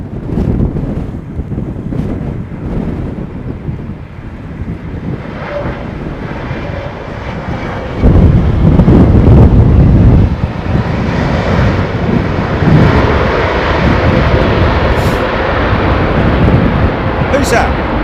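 An Aeromexico airliner lands at London Heathrow in Storm Kathleen's gusting winds, its steady engine roar tangled with heavy wind buffeting on the microphone and swelling into a louder surge midway before holding strong, with faint voices underneath.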